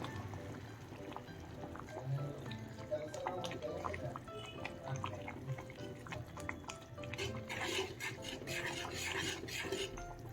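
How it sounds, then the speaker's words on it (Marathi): Gram flour being stirred into boiling water in a pot for bhajji batter, with a spoon scraping and clinking in soft irregular strokes and faint bubbling, quiet and close, building to brisker stirring near the end. "त्यामध्ये आपण बेसन पीठ सोडून घ्यायचं आहे थोडं थोडं हलवत हलवत"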